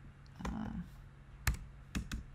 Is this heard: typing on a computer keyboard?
yes